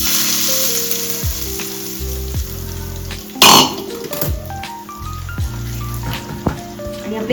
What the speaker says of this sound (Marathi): ही फोडणी आपण ह्याच्यात ओतायची